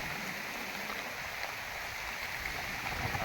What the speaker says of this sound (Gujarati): જોઈ શકો વરસાદ ચાલુ થઈ ગયો છે બ્લોકમાં